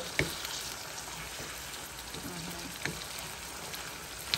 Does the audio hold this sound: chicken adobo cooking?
yes